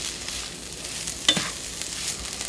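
Food stirred and sizzling in a skillet: a soft, steady frying hiss with one brief scraping stir in the middle, close and fairly quiet.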